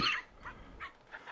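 Dogs bark in a video game, several sharp barks and yips spaced across the moment, close and fairly loud, with no one talking.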